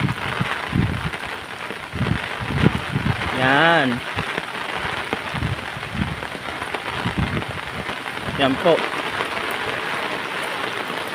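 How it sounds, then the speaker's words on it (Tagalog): Steady rain patters and hisses throughout during a flood while people talk close by. "umulan na naman po ulit"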